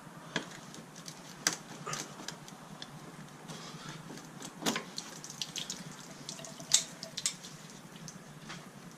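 Water running from a pipe during a FLO smart water valve installation, a steady faint splashing hiss with scattered clicks and drips, close and without talk.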